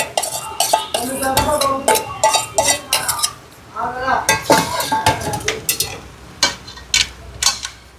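Semolina (rava) stirred in a metal cooking pan: a close, busy clatter of a spoon scraping and knocking against the pan in irregular bursts, with a brief pause midway before the stirring resumes.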